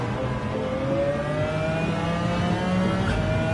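A race car engine in Gran Turismo 7 drones steadily at high revs with a rising tone, loud and continuous throughout, with no talk.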